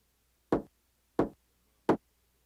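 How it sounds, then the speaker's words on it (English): Three sharp knocks at a front door, evenly spaced, crisp and close, with silence between them. "They had just finished eating and cleaning the table when they heard a knock at the front door."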